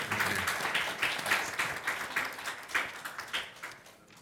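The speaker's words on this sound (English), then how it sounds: "Please, a round of applause." Audience applause at an education forum panel, a steady wash of many hands clapping that swells and fades in waves for about four seconds, fairly quiet and distant with no talk over it.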